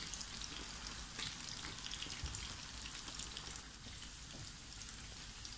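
Pork that was already fried goes back into hot oil for a second fry, giving a steady, dense sizzle and crackle close by that softens slightly toward the end.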